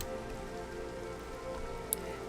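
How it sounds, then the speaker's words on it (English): Steady Minecraft rainfall pattering on surfaces, a continuous even hiss at moderate level with no voices. "It just started raining."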